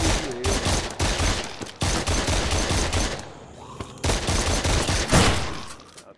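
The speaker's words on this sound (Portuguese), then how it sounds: "Atirando na lixeira, cara." Rapid bursts of gunfire in the VR game Surv1v3 as shots are fired at a trash can, loud repeated volleys with short pauses between them, up close.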